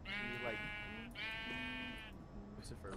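Two drawn-out sheep bleats from the video game Minecraft, each lasting about a second, sounding close and clear with a faint third bleat trailing at the end; no talking.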